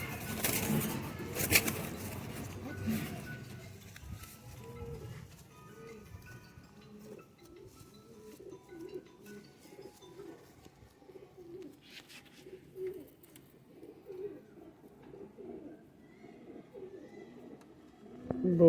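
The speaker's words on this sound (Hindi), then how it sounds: "बहुत प्यारे, बहुत ही ज़बरदस्त कबूतर है माशाल्लाह।" Pigeons coo in low, repeated, throaty calls from several birds at a pigeon seller's loft, moderately close and steady, following a burst of rustling and wing noise at the start.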